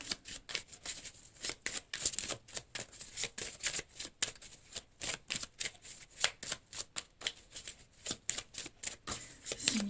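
Tarot-style cards are shuffled close up in a long run of quick, crisp riffling flutters that repeat in an irregular rhythm, with no talking.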